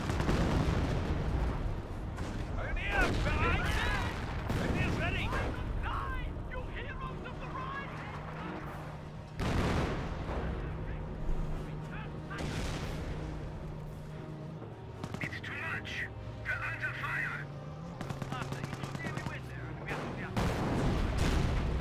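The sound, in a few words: artillery fire from 25-pounder guns in the Company of Heroes video game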